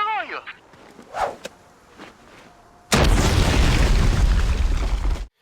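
Grenade explosion in the 2000 shooter Giants: Citizen Kabuto: after quiet footsteps and small pops, a sudden loud full-spectrum blast erupts and roars steadily for over two seconds before cutting off.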